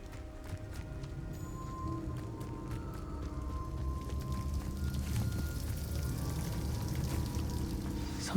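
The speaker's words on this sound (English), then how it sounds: "The waterfall." A waterfall in the Hogwarts Legacy game gives a steady rushing, pouring wash of water that is moderately loud and continuous, with a few faint clatters and no talk.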